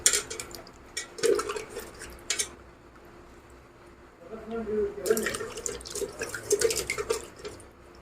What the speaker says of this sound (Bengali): আলুগুলো একটু ভালো করে ধুয়ে নেব।